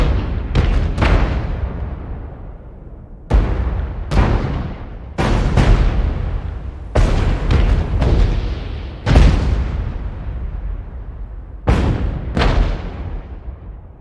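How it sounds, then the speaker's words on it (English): Area-bombing artillery in an FPS video game fires a rapid series of heavy booming blasts. Each lands sharply and decays into a long rumble, sometimes in quick pairs or clusters, without talking. "It's going, I think it's like 30 seconds of just pure bombs."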